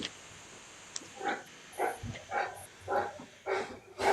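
A dog barks in a slow series of about six single woofs, faint and somewhat distant in a quiet room, spaced roughly half a second apart.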